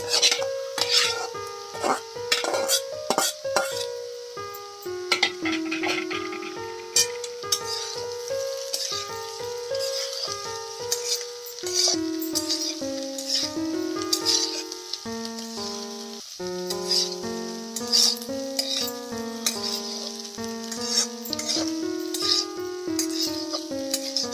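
Potatoes stirred and fried in a pan for restaurant-style potato bhaji served with masala dosa: continuous sizzling with frequent utensil scrapes and clinks, heard beneath a prominent melodic music track.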